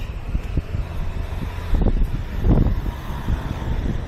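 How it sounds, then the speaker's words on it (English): Gusty wind buffets along the Thames Path in Wapping, a steady rumbling roar with stronger bursts midway and traffic faintly mixed in. "Ooh, windy."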